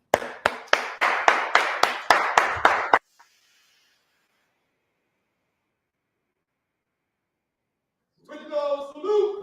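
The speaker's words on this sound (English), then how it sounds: "you can stand and clap your hands as we welcome Minister YASHUA to the podium" About a dozen loud, evenly spaced claps ring out as an audience welcomes a speaker to the podium at a lecture, followed by silence and then a voice speaking.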